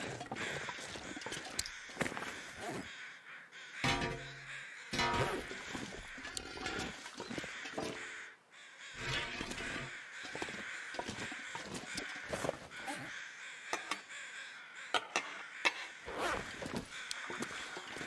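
Harsh crow caws recur over a long stretch of steady wind noise in a frozen survival game world, some calls low and drawn out, with no talk.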